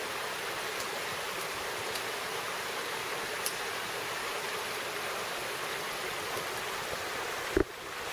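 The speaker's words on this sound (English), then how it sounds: "There's a little waterfall." A small rainforest waterfall makes a steady, continuous rush of splashing water at close range, even and unbroken, with a brief knock near the end.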